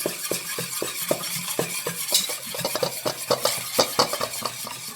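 Rouille sauce being mixed while olive oil and grapeseed oil are added, heard as quick, rhythmic utensil strokes scraping and clicking against a bowl, close and continuous with no voices.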